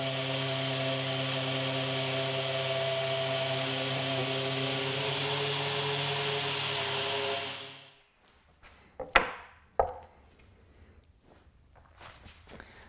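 Steady sanding of wood for a handmade wooden desk tray, a continuous even abrasive hum lasting about eight seconds before it stops, followed by a few scattered knocks and handling noises.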